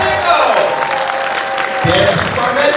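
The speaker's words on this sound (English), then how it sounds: "Big round of applause for Oscar winner Mira Sorvino" A fan festival audience applauds and cheers for guest Mira Sorvino at a Q&A panel in Dallas, a loud sustained burst of clapping and crowd noise with a host's voice carrying over it.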